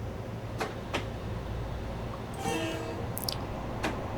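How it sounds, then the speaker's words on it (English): A train passes on the Harlem Line in Train Sim World 2, with a low steady rumble and a few sharp clacks, then a brief horn-like burst partway through, moderately distant and without talk. "There's another train."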